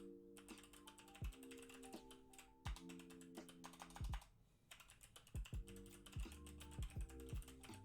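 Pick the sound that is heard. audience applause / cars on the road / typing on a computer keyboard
typing on a computer keyboard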